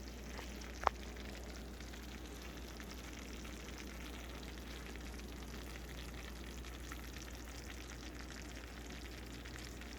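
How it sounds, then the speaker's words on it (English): A baked mac and cheese casserole with a panko topping sizzles fresh from the oven, a faint, steady crackling hiss with one sharp tick early on, heard alone without talk. "Listen to it sizzle."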